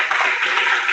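A church congregation claps during a sermon, a brief, steady patter of many hands filling the room at moderate loudness.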